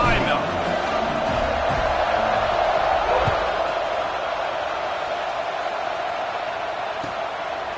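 Crowd at a Penn State versus Cal college football stadium, a broad steady roar that fades slightly over time, with a commentator talking over it.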